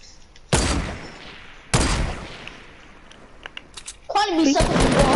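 Two sharp gunshot bursts from the video game Fortnite, each cracking loudly and then trailing off, followed by faint clicks and a rising voice talking over a final burst of fire.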